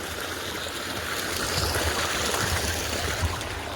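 Borewell water pours into a full drinking water tank on a farm, making a continuous rushing, gurgling flow that stays moderately loud and steady throughout.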